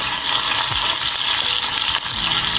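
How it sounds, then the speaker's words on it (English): Onions frying in hot oil for a yam pottage, giving a steady, loud crackling sizzle throughout with a few soft stirring scrapes and no talking. "I'm going to put it in my onions"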